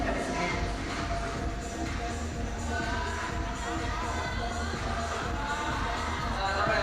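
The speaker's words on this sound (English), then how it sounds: "The crowd begins to warm up." Spectators at the 2014 IFSC Climbing World Cup lead finals in Inzai cheer and shout steadily behind a climber, a dense, continuous crowd roar that holds level throughout with no clear pauses.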